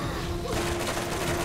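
Turret gunfire in the video game Borderlands: a dense fusillade of rapid shots that swells in the second half, heavy and continuous under the game's ambient noise.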